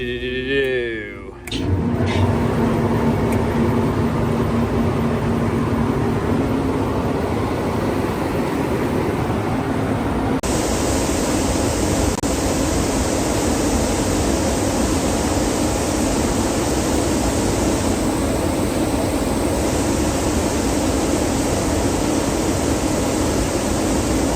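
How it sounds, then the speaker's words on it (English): A grain dryer fired up and running at a pit site, a loud steady broadband roar of fans and burners droning on without a break, close by, with no talk over it. "We're gonna get the rest of the dryer fired up and running."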